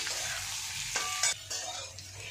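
Boiled potatoes fry in a hot pan with a steady, bright sizzle throughout, with a few short scraping stirs near the middle.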